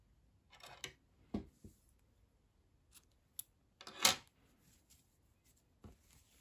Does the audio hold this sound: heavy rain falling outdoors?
no